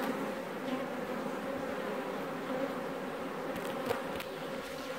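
A dense, continuous buzz of many honeybees swarming close by at a hive, steady and droning throughout with a few sharper individual buzzes passing near.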